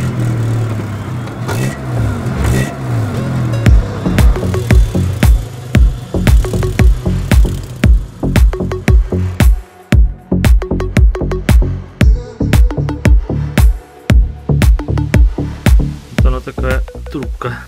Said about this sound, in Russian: сейчас машина заводится, звучит вот так